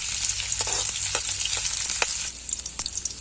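Chili peppers sautéing in a pan give a continuous bright sizzle and hiss, broken by intermittent scraping and stirring clicks, close and steady, fading slightly toward the end.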